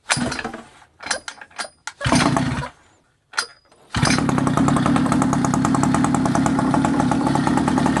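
A restored mini motorbike, choke still on, gets a few rough pull-start attempts with short bursts and pauses before the engine catches. It then runs steadily at a close, even idle.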